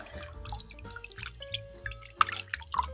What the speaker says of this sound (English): All right, so rinse again.